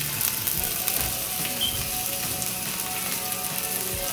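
A steak sears in a cast iron pan as it caramelizes, producing a steady broadband sizzle that is moderately loud and unbroken, with occasional small ticks and pops.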